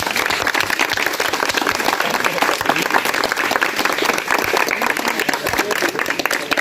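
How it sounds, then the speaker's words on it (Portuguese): A round of applause from a group, loud and close, with many hands clapping in a busy, uneven patter that holds steady for several seconds. "Uma salva de palmas."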